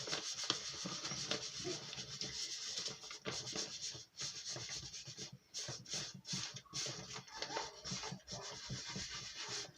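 Gold being rubbed onto a paper page of a junk journal, a continuous soft dry scrubbing and scratching with uneven strokes, close and quiet with no talk.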